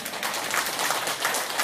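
A church congregation claps together in brisk, continuous applause, close and fairly loud, with no talking over it.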